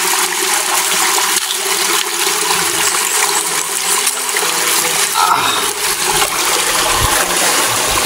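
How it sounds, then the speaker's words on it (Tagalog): Shallow water runs through a wide river with only a little water in it, making a steady, loud rushing and trickling sound throughout. "nandito kami sa ilog mga tol, no? Napakalaking ilog pero ang tubig niya konti lang."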